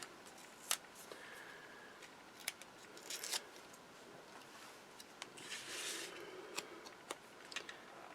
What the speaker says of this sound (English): Cut it off with my scissors.